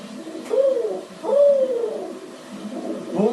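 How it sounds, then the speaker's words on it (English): Pigeons coo in two or three soft, rounded, rising-and-falling calls with short pauses between them, fairly close by, with no talking over them. "the birds in this country sure are friendly"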